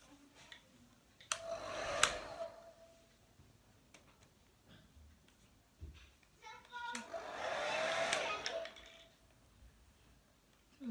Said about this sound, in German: Dann könnt ihr den Föhn anmachen.